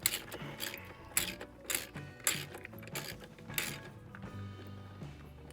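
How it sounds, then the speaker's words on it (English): A ratchet tightens the steering wheel bolt on a C8 Corvette, with quiet bursts of clicking that come in short, fairly regular strokes, close by and with no talk. "take your ratchet. You're going to tighten it up."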